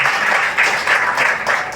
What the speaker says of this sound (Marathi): वंदना मॅडम साठी तुम्ही जोरदार टाळ्या होऊन जाऊ द्या